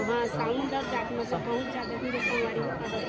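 Busy murmur of many overlapping voices from a crowd at Patoura temple, a close, fairly quiet babble with individual voices rising and falling.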